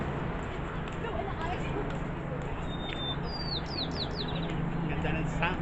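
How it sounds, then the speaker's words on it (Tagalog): Bird chirps and short tweets outdoors at a rooftop botanical garden on a tall building, small calls scattered over steady wind and ambient noise. "may mga huni pa ng ibon"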